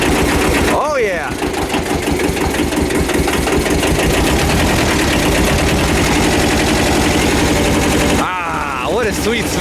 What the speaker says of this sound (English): It is a 2-cylinder tractor, and it does sound like one.